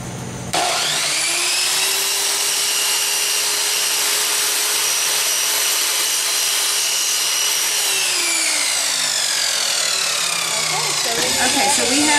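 A steady, loud mechanical cutting whine as a wooden stick is sawn, running for about eleven seconds, holding one pitch before winding down, then a few quieter knocks at the end.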